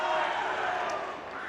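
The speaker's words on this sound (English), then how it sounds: "We're getting some home crowd jeers" Home fans jeer at a high school volleyball match in a gym, Rich High against the Kemmerer Rangers, a dense, steady wash of crowd noise filling the space and easing slightly toward the end.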